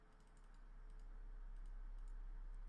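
Soft, quiet keyboard typing and mouse clicks on a computer, a brief flurry of light taps over low background noise.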